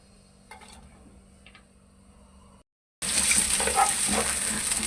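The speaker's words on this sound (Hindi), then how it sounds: "इसी के साथ में प्याज डाल रहा हूँ।" Onions hit hot ghee and oil in a pan, with faint clinks first, then a brief gap before a loud, dense sizzle takes over.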